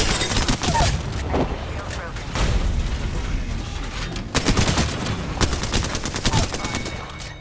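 Rapid bursts of gunfire in the video game Apex Legends, loud and close, with dense overlapping shots and heavier booms, running under a player's talk throughout.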